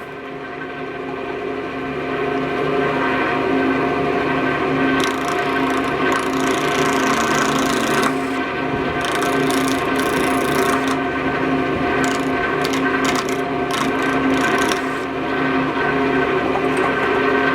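A wood lathe makes light cuts on a small wooden swivel key ring, giving a steady loud motor hum and a continuous scraping tool-on-wood rasp with bursts of brighter chatter, close up and without talk.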